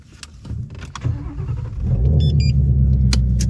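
A twin-turbo 800-horsepower Ford Shelby GT350 with a Coyote engine cranks and fires up, the starter whirring before the engine catches and settles into a loud, deep, steady rumble close by.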